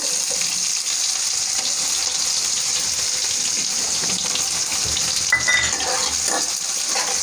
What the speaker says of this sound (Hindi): अब इसमें हम डालेंगे बारीक कटी हुई प्याज